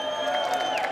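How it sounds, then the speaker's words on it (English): Crowd cheering and whooping at a live esports broadcast of the FIA Motorsport Games at the City of Arts & Sciences, a brief, steady roar of voices with a tonal hum running underneath. "give us a cheer, everybody."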